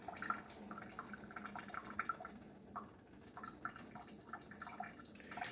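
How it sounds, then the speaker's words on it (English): Water runs and splashes softly while rice is rinsed to wash off starch, a faint, uneven trickle with small drips and sloshes close by, no talking. "Rinse out all the starch."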